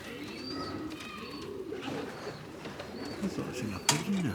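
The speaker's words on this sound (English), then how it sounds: "I thought I seen a pigeon there." Pigeons coo softly among young birds on their second outing from the loft, a few low rolling calls close by with brief chirps and quiet human voices in the background.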